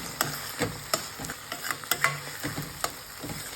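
Garlic palak paneer stirred in a pan, a spoon scraping and knocking in an uneven rhythm over a faint steady sizzle, close and moderately quiet with no talking.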